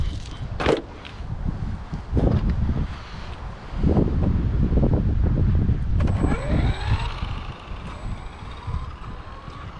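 A Traxxas Rustler 4x4 VXL RC car on Proline Destroyer 2.8 tires drives outdoors, its motor whining and rising in pitch as it accelerates, amid bumps, gusty wind noise on the microphone and occasional high electronic tones.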